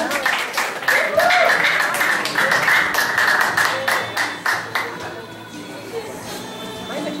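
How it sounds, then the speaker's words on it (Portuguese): An audience at a graduation ceremony claps for Gabriel, loud and close, with overlapping voices chattering underneath. The clapping gradually thins toward the end. "Vamos aplaudir o Gabriel."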